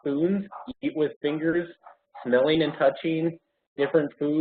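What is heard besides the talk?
No distinct noise like a dog, phone or traffic.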